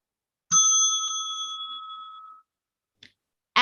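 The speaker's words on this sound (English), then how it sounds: "The warning bell will sound like this." A single bright ring of a warning bell for a speech time limit at a declamation competition rings out and fades over about two seconds, clear and alone, followed by a faint tap.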